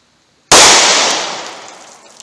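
A single .38 Special Winchester PDX1 round fires from a 1.875-inch revolver barrel, a sharp, very loud crack followed by a long decaying outdoor echo.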